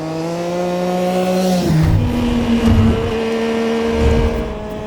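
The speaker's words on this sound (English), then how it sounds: "I add panning sound effects on the motorcycle passing shots" A motorcycle engine roars past, its pitch dropping sharply midway as it goes by, followed by further revving surges.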